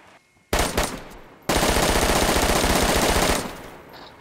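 Rapid automatic gunfire from a video game, with two short bursts followed by a long sustained loud volley that fades at the end.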